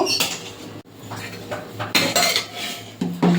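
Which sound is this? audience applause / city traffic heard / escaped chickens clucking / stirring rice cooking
stirring rice cooking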